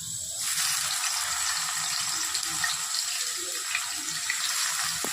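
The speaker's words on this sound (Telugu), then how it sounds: "ఉల్లిపాయలు వేసేస్తున్నా." Onions tipped into a hot pan while cooking a drumstick chicken curry, a sudden broad hiss that settles into a steady, loud sizzle sustained to the end, with no talk.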